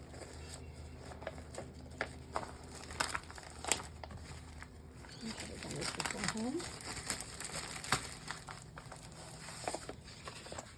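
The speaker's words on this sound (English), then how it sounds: "I'll just take that out of the plastic so it doesn't get shiny" A rubber stamp for a wreath design being pulled out of its plastic packaging, giving close, irregular crinkles and rustles with a few sharper taps between.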